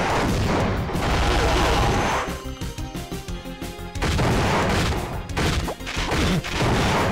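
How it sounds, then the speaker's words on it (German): Heavy machine gun fire in the PlayStation 1 shooter CT Special Forces, long loud bursts with a choppy stretch of separate shots in the middle, then continuous firing again with crashing impacts. "Deswegen spiele ich jetzt auch mit dem Maschinengewehr."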